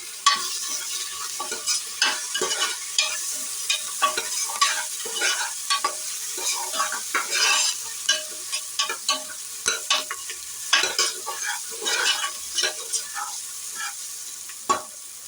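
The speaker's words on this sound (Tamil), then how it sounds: "இப்போ வதங்கிச்சு கொஞ்சமாக இஞ்சி பூண்டு பேஸ்ட் ஆட் பண்ணிக்கலாம் நல்லா மிக்ஸ் பண்ணிக்கலாம்" Sautéed onions with ginger garlic paste are stirred in a pot, a spoon scraping and knocking in quick uneven strokes over a soft, steady sizzle, close by and with no talk.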